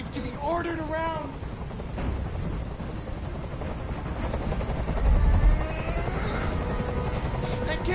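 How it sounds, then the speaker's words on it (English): Helicopter noise in the video game Detroit: Become Human, a steady low rotor rumble that holds loud throughout, mixed with game sound effects and a voice speaking over it. "I can't stand that noise anymore. Tell that helicopter to get out of here."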